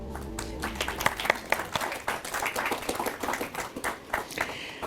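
An audience claps in a send-off, with a brief burst of scattered, fairly light applause that swells and fades over a few seconds, plus a little murmured voice in the background.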